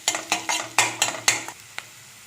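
A metal spoon scrapes and clanks against a pan while onions and green chillies fry for a poori masala, about six rhythmic stirring strokes with a faint sizzle underneath, close and clear with no talking.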